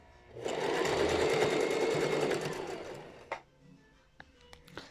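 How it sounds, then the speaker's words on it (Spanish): A sewing machine runs a zigzag stitch around an elastic waistband and finishes with a backstitch. It gives one loud, steady whirring run of about two seconds, followed by a few short, sharp clicks in near silence. "Voy a terminar mi costura con un remate"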